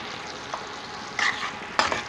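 Chopped tomatoes with salt frying in a pan for a tangra fish curry, a soft steady sizzle broken by two short bursts of scraping as the mixture is stirred, close and alone.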